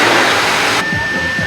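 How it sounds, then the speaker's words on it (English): An electric hand dryer in a campground bathroom blows with a loud, steady whirring rush, its tone shifting partway through as it keeps running. "That was not soap. That was a hand dryer."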